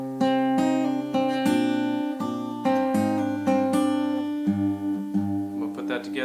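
Acoustic guitar playing a melody over its bass line, plucked notes ringing in a steady flowing pattern, close and clear with no voices.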